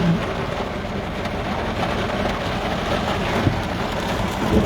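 Steady rain falls in Faridabad on a street with road traffic, a dense continuous wash of rainfall and passing vehicle noise, fairly loud and constant throughout with no talking.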